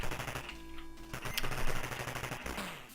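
Rapid chiptune-style gunfire from the Atari ST game Commando, bursts of machine-gun shots over game music and effects, steady and fairly loud throughout.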